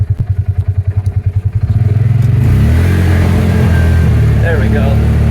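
A 2020 Polaris Ranger UTV in four-wheel drive climbs a hill. Rhythmic thumping and clatter at first, then a steady, loud engine drone that builds as it pulls uphill.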